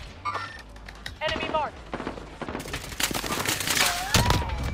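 Bursts of rapid gunfire in a video game battle, shots crackling fast and dense through the second half over the game's background sound, with a player's voice talking over them.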